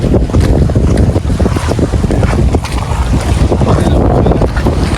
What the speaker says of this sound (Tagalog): Masakay na naman ng bangka.